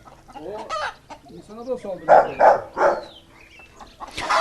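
A rooster clucks and calls in a few short, close bursts while people talk nearby.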